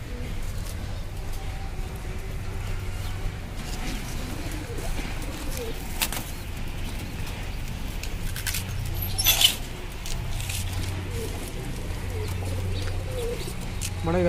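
Pigeons coo in soft, low repeated phrases at a crowded feeding spot, with food trays set out morning and evening. A few sharp rustles and flutters stand out above a continuous background murmur.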